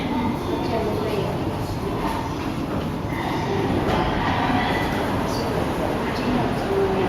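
A Shinkansen bullet train at Tokyo Station sets off with a steady, loud rumble and rolling rail noise. The sound is continuous and sits over busy platform ambience, with faint voices in the background.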